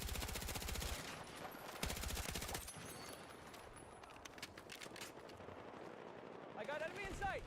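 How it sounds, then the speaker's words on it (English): Enemy machine gun fire in a video game, with fast rattling bursts loud at the start and again around the two-second mark, then scattered shots and battle noise continuing beneath voices. "Enemy machine gun!"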